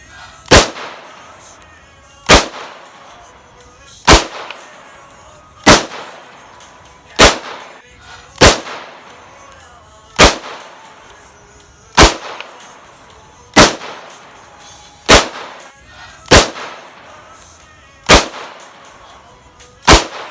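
A Taurus Judge revolver fires shotgun shells and slugs, about a dozen loud, sharp blasts spaced roughly every one and a half seconds, each trailing off quickly, with no talk between them.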